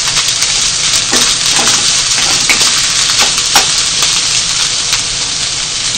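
Fried rice being stir-fried in a frying pan, with a loud, continuous sizzle broken by scraping and tossing strokes of the spatula, close up and with no voices.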